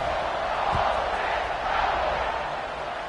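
A stadium crowd in the college football game College Football 26 roars as a steady, broad wash of cheering that swells and holds without pause.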